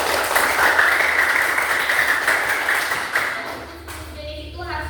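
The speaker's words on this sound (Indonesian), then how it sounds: "tepuk tangan dulu untuk Roni." A classroom of pupils claps for a classmate during a maths lesson, a brief burst of applause fading after a few seconds as a teacher's voice and children's chatter take over.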